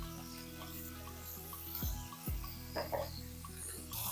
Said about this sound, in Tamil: அதையும் இதிலே சேர்த்து எல்லாமே ஒன்றா சேர்த்து வதக்கிடுங்க